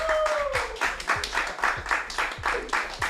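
Steady rhythmic clapping, roughly three claps per second, close and loud, with a faint voice briefly in the background.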